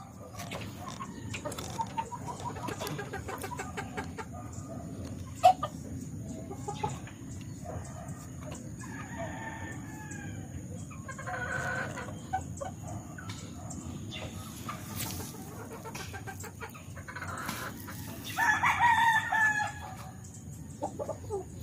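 Roosters crow and chickens cluck around a rural farm hut in the Philippines, several calls scattered at moderate distance over a quiet outdoor background, with a faint ticking mixed in.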